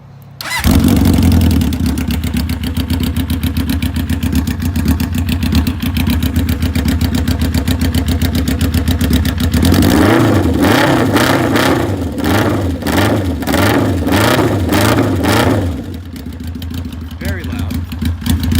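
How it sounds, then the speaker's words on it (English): A 1981 Honda CB750 motorcycle fitted with loud drag pipes starts and idles with a harsh, throbbing rumble, then is revved in several sharp blips before settling back, all loud and close with no talk over it. "it's got drag pipes, and they are ridiculously loud"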